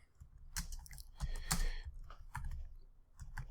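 Quiet, irregular clicks and taps of a computer keyboard being typed on, in uneven bursts, close by and faint.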